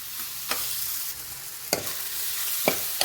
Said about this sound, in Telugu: బాగా ఫ్రై అవ్వనివ్వండి ఒక ఫోర్ ఫైవ్ మినిట్స్